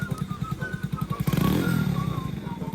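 A secondhand motorcycle fitted with a rapid-backfire exhaust idles in rapid pulsing beats, then revs up briefly around the middle before settling back to a steady throbbing idle, fairly close.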